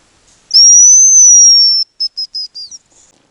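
A long, thin, high-pitched whistle from a hazel grouse in taiga forest, followed by a quick series of four short, descending whistled notes, clear and isolated against silence.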